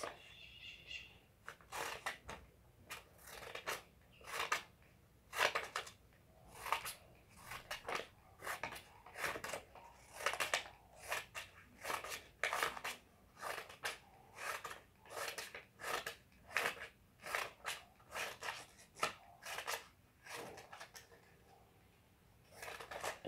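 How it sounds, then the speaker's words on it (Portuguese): Scissors snipping painted paper into small pieces: a steady run of crisp, quiet cuts repeating at an even rhythm, close up with no talking. "você vai precisar pegar uma tesoura e cortar em pequenos pedacinhos"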